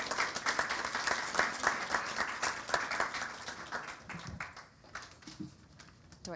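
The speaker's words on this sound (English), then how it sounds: "Please give a big round of applause for Beth and enjoy the evening." Audience applause for Beth Harrison at an evening literary reading event, moderately loud clapping that thins and fades toward the end with a few scattered claps.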